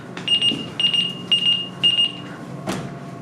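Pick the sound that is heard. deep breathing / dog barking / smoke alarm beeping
smoke alarm beeping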